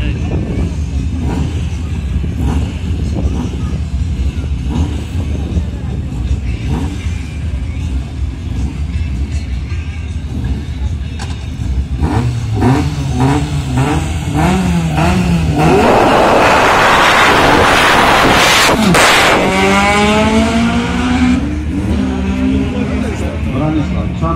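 A Škoda Fabia rally car at the Oždianske serpentíny hill climb approaches and races past, its engine rising loudly through gear changes then fading, with commentators talking over it throughout.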